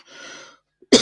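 A single sharp, loud cough close up, preceded by a softer breathy groan and a brief small noise.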